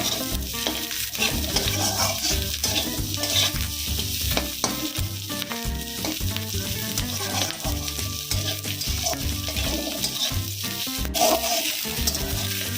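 Capsicum and onion stir-fried in a pan for restaurant-style chilli chicken, a steady loud sizzle with frequent scraping stirs of a spatula running throughout, close and without talk.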